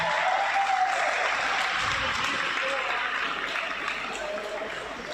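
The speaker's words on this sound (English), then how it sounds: "Big round of applause, ladies and gentlemen, once again for our runners-up." A crowd at a men's Premier League basketball grand final gives sustained applause for the runners-up, a broad steady roar of clapping with an announcer's voice over it.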